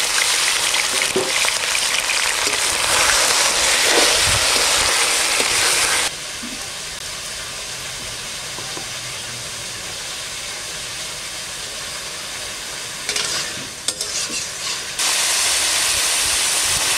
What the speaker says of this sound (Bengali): এখন আমি চিকেনটা ভেজে নেব, দিয়ে দেবো সর্ষের তেল।